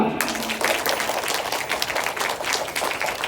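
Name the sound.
audience applause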